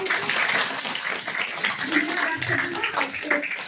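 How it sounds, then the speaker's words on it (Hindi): Loud, dense applause from an audience at a foundation's event in India, a continuous wash of many hands clapping close by for several seconds. "एक बार जोरदार तालियों से"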